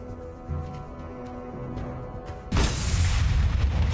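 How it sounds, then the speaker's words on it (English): A turret destroyed in the Mobile Legends video game, a sudden loud booming blast that bursts in midway and roars on to the end, over quieter game sounds beforehand. "Your team destroyed a turret!"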